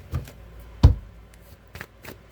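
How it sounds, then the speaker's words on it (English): Tarot cards are shuffled close by in a few soft riffling bursts, with one sharper tap partway through, and no one speaking. "That was a really bad shuffle."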